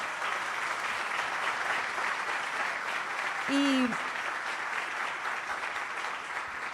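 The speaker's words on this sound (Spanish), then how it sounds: "se merece un aplauso mucho más fuerte" A conference audience at an event with Colombia's Contador General applauds in a steady, even stream of clapping, with a brief voice rising over it near the middle.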